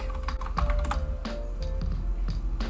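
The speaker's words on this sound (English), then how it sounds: "Type in headache." Typing on a computer keyboard, searching an herbal medicine reference: a steady run of quick, close key clicks with a few heavier strokes, alone over a low room hum.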